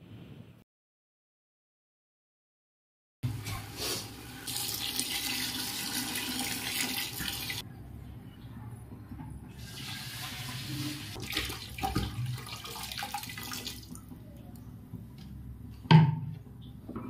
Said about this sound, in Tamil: அந்த வாட்டர் கேனில் 1 லிட்டர் 400 ml தண்ணி அளந்து அதோட சேர்த்துக்க போகிறேன்.